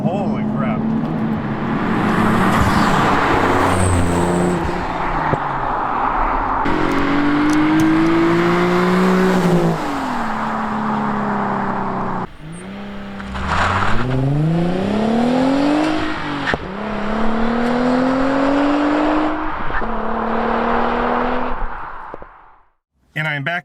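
A car fitted with an EAC twin turbo kit accelerates hard on a street, its engine note rising in repeated sweeping pulls as it climbs through the gears, loud and close, with people talking over the run.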